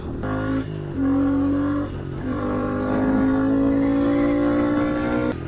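A Honda CRF110 small dirt bike engine pulling in fourth gear, a steady buzzing drone that rises in pitch as it revs, close and continuous with no talk.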